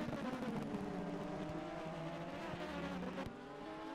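Simulated race car engines from rFactor 2 during a 2.4-hour endurance race at Misano, a loud continuous multi-harmonic drone with shifting pitch and several cars mixed in, dropping off briefly near the end.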